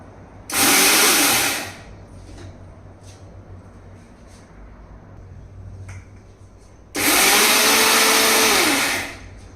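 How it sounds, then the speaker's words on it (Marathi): A mixer grinder blitzes flaxseed chutney in two loud bursts, the first about a second long and the second near three seconds, each whirring steadily and then cutting off, with quiet room noise between. "मी सर्व मिसळ मिक्सरमध्ये बारीक करून देऊ"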